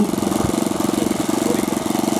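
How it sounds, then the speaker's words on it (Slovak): An F4U Corsair warbird's piston engine runs up for an engine test at an airfield, a steady loud throbbing drone with a regular pulsing beat, heard alone without talk. "práve robí motorovú skúšku"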